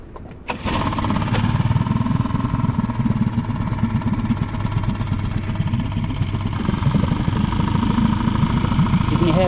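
A small boat outboard engine starts and runs with the choke open, a steady, close mid-pitched drone with busy mechanical rattle that holds level and rises slightly later, with a voice talking over it.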